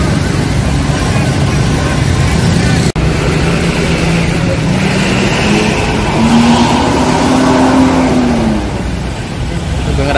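Several intercity buses, including a Sugeng Rahayu coach running from Yogyakarta to Surabaya, pulling into a busy Indonesian bus terminal at night, loud close engine drone with a rising revving tone, under steady crowd chatter.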